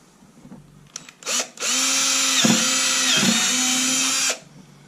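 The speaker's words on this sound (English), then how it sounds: "now that I got the holes drilled" A power drill runs in one steady high whine for about three seconds while holes are drilled, preceded by a couple of short starts and ending abruptly, close and fairly loud.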